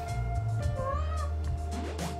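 Cat meowing from A Space for the Unbound, a pixel-art game, with wavering meow tones rising over a steady low background game hum, no voices.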